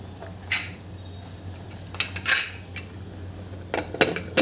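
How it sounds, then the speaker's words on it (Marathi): A pressure cooker lid is fitted and closed over jeera rice, a few sharp metallic clinks and scrapes spaced irregularly over quiet kitchen hum, close and moderately loud. "आता आपण कुकरचं झाकण लावून देऊया"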